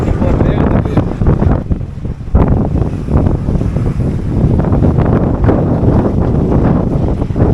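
Heavy wind buffets the microphone on a bridge beside the sea, a loud, rumbling, gusting roar that fills the whole stretch with constant low-end pounding.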